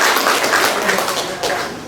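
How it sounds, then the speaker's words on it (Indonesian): An audience at a governor's working visit in Rote Ndao claps, a loud, dense patter of many hands that stays steady and tapers slightly at the end. "Ya, tepuk tangan dulu."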